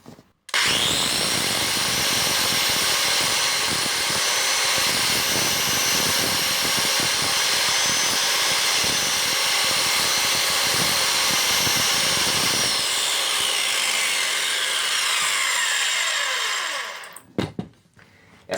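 A hand-held circular saw for woodworking switches on and runs loud and steady for about sixteen seconds, its motor whine holding at full speed, then spins down with a falling tone before a brief final clunk.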